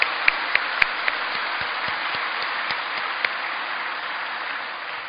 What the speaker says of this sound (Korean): 다시 한번 감사의 박수를